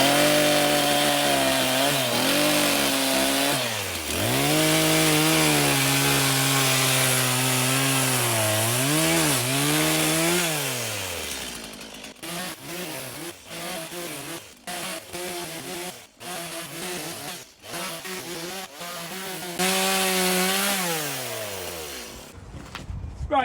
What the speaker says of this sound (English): What I want to do now with the chainsaw, right? I'm going to notch it there like that, and I'm going to cut that out there